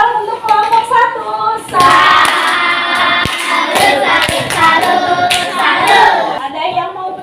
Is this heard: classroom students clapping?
yes